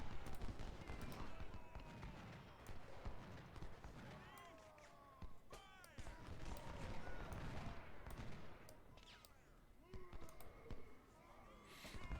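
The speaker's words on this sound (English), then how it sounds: "That's a lot of artillery." Civil War battle in Ultimate General: Civil War with heavy artillery fire: dense, continuous cannon booms and crackling musketry rumble throughout, with sharp reports standing out above the steady din.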